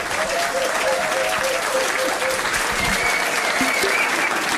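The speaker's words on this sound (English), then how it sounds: "give them a round of applause" Pub trivia quiz crowd at The Yard gives a team a round of applause, loud continuous clapping filling the room from start to finish with faint voices mixed in.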